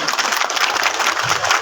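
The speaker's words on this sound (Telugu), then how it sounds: "అందరూ క్లాప్స్ కొట్టండి" An audience claps steadily and fairly close at a felicitation ceremony honouring a general science teacher, a dense continuous patter of hands throughout.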